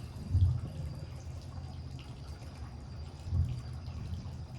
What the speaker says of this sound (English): So there's a waterfall that goes between the hot tub and the pool.